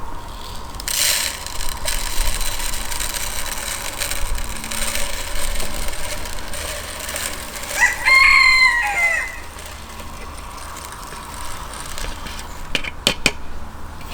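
Chickens at a wooden Nestera coop: a rooster crows loudly once midway, with scattered clucks, wooden knocks and rattles before and after, close by.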